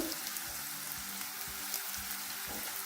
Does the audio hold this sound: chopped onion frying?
yes